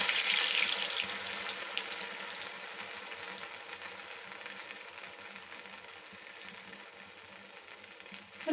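Medu vada batter dropped into hot oil sizzles and crackles in a steady, close hiss, loudest at the start and then settling into an even fry with no talking.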